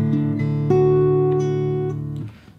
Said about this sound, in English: Then we've got a fast kind of picking pattern.